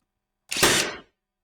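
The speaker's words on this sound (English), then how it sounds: "I'll put a couple of brad nails in." A single sharp brad nailer shot driving a nail into a wooden stair tread of a folding shop stairway, one loud close crack with a brief pneumatic hiss, alone in silence.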